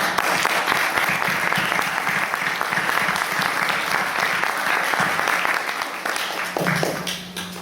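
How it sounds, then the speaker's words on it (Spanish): Sustained audience applause at an academic lecture on international treaties and the Mexican constitution, dense and steady throughout, welcoming a speaker, with faint voices near the end. "Vamos a recibir con un aplauso al doctor Cobian."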